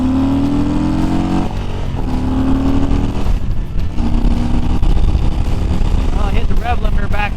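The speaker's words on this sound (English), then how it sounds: "Rev limiter back there. Should have shifted sooner." A Harley-Davidson Street Bob 114 engine revs hard and holds at its rev limiter, a loud, steady droning roar with stuttering cuts near the end, heard close from the rider's position over wind noise.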